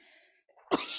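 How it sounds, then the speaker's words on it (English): A single close, abrupt cough bursts out near the end of a short moment in a council meeting, after a faint tonal hum and near silence. "I'm gonna start coughing."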